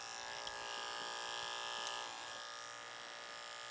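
An electric hair clipper fitted with a 1.5 blade cuts curly hair in a high fade, a steady high-pitched buzzing hum, close but quiet, with a couple of brief clicks and a slight change in tone as passes are made.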